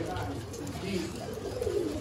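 Pigeons of several breeds, kept in pairs for sale, coo softly and repeatedly. Low, rolling calls blend with steady background noise, and someone speaks nearby.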